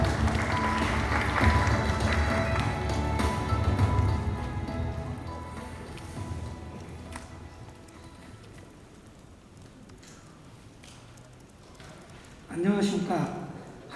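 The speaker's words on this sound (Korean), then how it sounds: "박수로 맞이해 주십시오." Audience applause greets a presenter at a 2022 cultural heritage visit campaign press conference. A dense patter of clapping gradually thins and fades, followed by quieter room noise and a brief burst of sound near the end.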